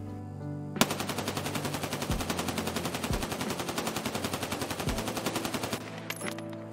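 A rifle fires in sustained full-auto in Escape from Tarkov, a rapid, evenly spaced burst of loud close shots lasting about five seconds before cutting off, with no talking.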